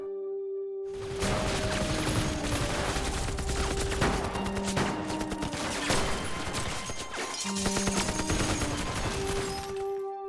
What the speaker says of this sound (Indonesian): Pada akhirnya tim Warren dan Zero Cartel saling berbalas tembakan.